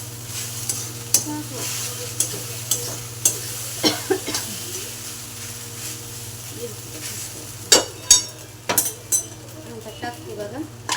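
Sago pearls roast in a pan while a spoon stirs and scrapes them in irregular clinking strokes over a low steady hum, the metal scrapes sharp and close.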